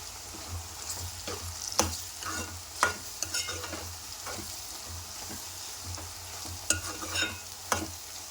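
Radish curry with turmeric fries in a pan with a soft continuous sizzle, punctuated by repeated scraping strokes of a spoon stirring at an irregular rhythm.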